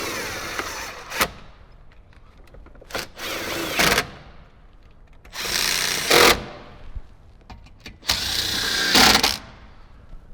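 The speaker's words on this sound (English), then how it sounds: "grab our 10mm, whether it's on an impact gun or a socket wrench, go ahead and get those all tightened up" Power tool or ratchet tightening 10mm bolts during a speaker install on a Jeep Wrangler JK, three loud bursts of a few seconds each separated by quieter pauses.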